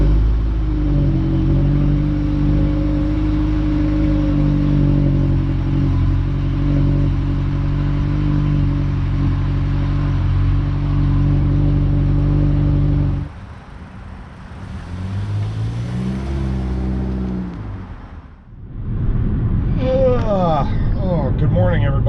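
The four-cylinder engine of a 2022 Toyota Corolla XSE Apex runs loud and steady for a long stretch, then drops to a quieter driving hum with a brief dip before picking back up. A voice talks over parts of it.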